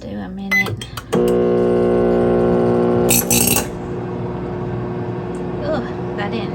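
A microwave oven being repaired runs with a loud, steady electrical hum and buzzing drone, joined by a brief harsh rattling burst partway through, after a few clicks as it starts.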